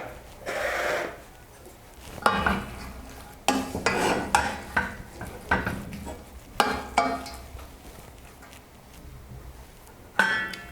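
Lentils and apples simmering together in a pot, with intermittent stirring scrapes and soft clinks of a spoon against the pot at close range, some bursts louder than others, no talking.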